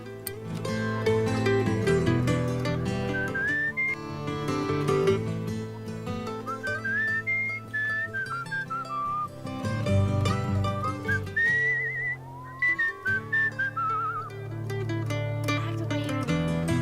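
Character whistling in the Where the Water Tastes Like Wine video game: a clear melodic whistled tune wandering up and down, heard over a sustained musical backing for the whole stretch, close and fairly loud.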